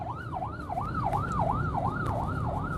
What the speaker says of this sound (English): I'm on the road and there's traffic and the siren is passing and blowing